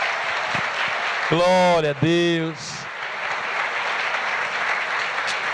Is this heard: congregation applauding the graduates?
yes